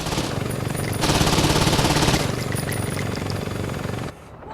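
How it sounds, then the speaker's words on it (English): Saints Row 2 game combat with a submachine gun firing at a helicopter: a dense, continuous rattle of automatic fire over a steady rotor drone, loud and unbroken for about four seconds before cutting off abruptly. "time to use a submachine gun to deal with the helicopter here"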